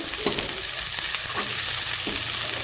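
Carrot and other vegetables hitting a hot pan for vegetable soup, a loud dense sizzle filling the space up close, with a few soft stirring knocks inside it and no voices.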